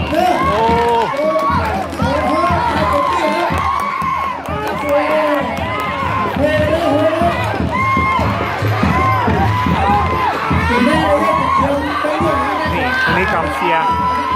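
A loud, dense crowd cheers, shouts and whoops continuously at a sky lantern release contest during the Loy Krathong festival at Wat Phra That Hariphunchai, Lamphun, in 2018. Many voices overlap without pause.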